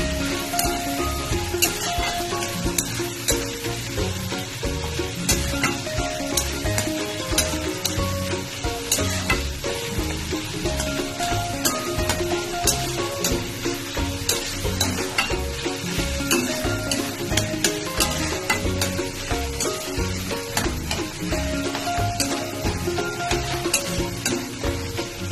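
Chopped half-ripe tomato cooking down for fish curry, sizzling steadily in a pan while a utensil stirs and scrapes it repeatedly. The frying is close, with tonal background sounds running underneath the whole time.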